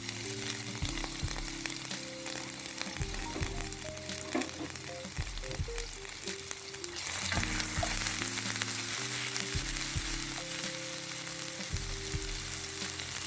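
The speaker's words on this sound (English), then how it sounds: "add the white onions and garlic first, and I will allow the heat on medium low because I want the onion to caramelize" White onions and garlic sizzle in a pan over medium-low heat, a steady close frying hiss with occasional stirring clinks, no voices.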